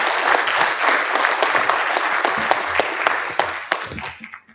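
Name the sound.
applause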